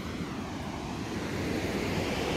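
A waterfall at a riverside camping and fishing spot gives a steady broadband rush of falling water. It is continuous and fairly loud, with no voices over it.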